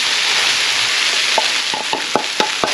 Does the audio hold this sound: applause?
no